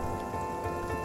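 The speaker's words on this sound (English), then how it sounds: "until it rained heavily in the evening" Heavy evening rain on a mountain after passing thunderstorms makes a dense, steady hiss of drops drumming on a surface, loud and unbroken throughout.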